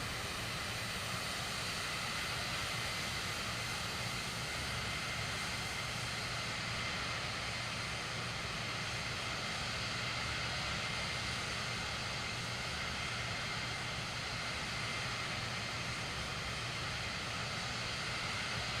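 A simulated Airbus A400 Atlas turboprop transport in Microsoft Flight Simulator 2024 flying low through the Mach Loop, its engines giving a steady, loud, broadband drone that holds unchanged for the whole stretch with no talking.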